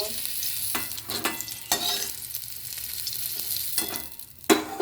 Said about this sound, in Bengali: তেলে করলা দিয়ে দিয়েছি ও করলাগুলো আমি ভাজছি।